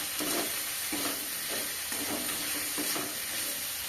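Shrimp frying in a pan with spring onion greens is stirred in regular scraping strokes about every half second, over a constant close hiss of sizzling oil, with no talking.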